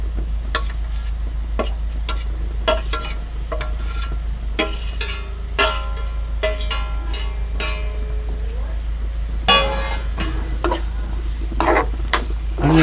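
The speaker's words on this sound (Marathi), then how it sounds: "कांदा आपण परतून घेऊया त्याच्यावर. त्याच्याबरोबर टाकणार आहे मी हा टोमॅटो." Onion and tomato sauté in a pan, with a constant sizzle under frequent metallic clinks and scrapes of a spoon stirring against the pan, plus a low steady electrical hum throughout.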